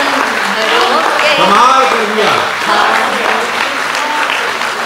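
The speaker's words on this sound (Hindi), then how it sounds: "वाह, तालियां है, बहुत अच्छा है," An audience at a Hindi kavi sammelan poetry recital in Jamshedpur claps in loud, sustained applause, a dense crowd of hands heard up close, with cheering voices calling out over it.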